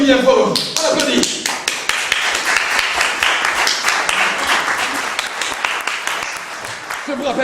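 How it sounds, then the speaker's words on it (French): Theatre audience applauding loudly at a stage performance of a comic Oedipus tragedy, with dense, sustained clapping running the full length and a few voices briefly audible at the start. "On applaudit bien fort, on applaudit."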